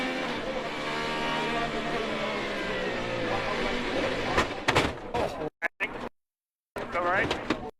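An IndyCar onboard at Saint Petersburg carries a high, droning engine whine that shifts in pitch, then breaks into choppy bursts with a brief total dropout. A commentator talks over it.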